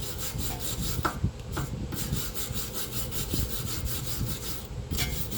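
A car spindle from a front end rebuild on a 1976 four-door Cutlass is cleaned with steady, rhythmic scraping and rubbing strokes, loud and close, with no talk.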